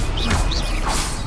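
A Stupefy spell cast in Hogwarts Legacy, a loud magical whoosh with swishing sweeps over a dense, continuous roar of game sound.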